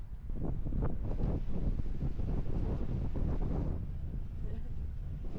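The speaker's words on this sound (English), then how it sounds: "How funny, he's on a power boat." A boat engine drones past amid steady wind buffeting the microphone, with splashing water underneath; the rumble stays low and constant.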